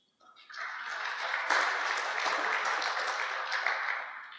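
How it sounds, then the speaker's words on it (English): Audience at a no-till farming club conference applauds the participants of a competition, a dense wash of many hands clapping that swells quickly and holds steady and fairly loud throughout. "give everybody that took part in this competition a nice round of applause"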